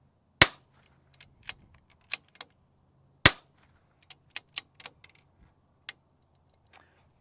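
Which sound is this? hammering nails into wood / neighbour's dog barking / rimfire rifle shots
rimfire rifle shots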